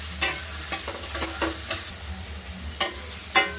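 Tomatoes sauté in a pan for spicy vermicelli rice, with a steady sizzle broken by sharp, repeated scrapes of a spatula stirring them, close and clear, without talk.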